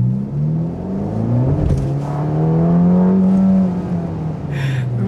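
Ferrari engine in comfort mode on a wet track, revving as the throttle is floored: a loud, sustained rising drone that climbs in pitch, holds near its peak, then eases back, with no talk over it.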